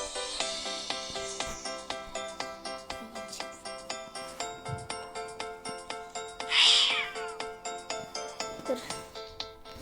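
A kitten in a video game meows again and again in quick, regular bursts over a steady electronic backdrop, with one louder, higher cry partway through.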